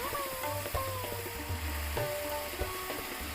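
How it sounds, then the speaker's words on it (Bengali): Corn kernels hitting hot oil in a pan on a stove for homemade popcorn, a close, soft crackling sizzle with scraping stirring strokes and occasional clicks of the utensil, no voices. "ভুট্টা দানাগুলো এবার আমি দিয়ে দিব তেলের মধ্যে"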